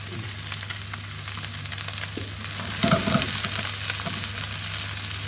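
Fish fries in a pan with a constant crackling sizzle, briefly swelling louder as the fillet shifts and a utensil knocks softly, no speech.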